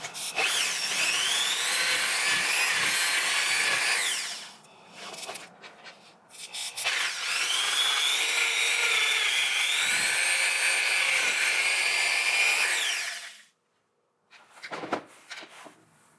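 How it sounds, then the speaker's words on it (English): Power drill boring holes in a catch can bracket for a 2019 Honda Accord Sport, two long loud whining runs separated by a short pause, then a brief burst near the end. "I'm going to go ahead and drill the back of this out"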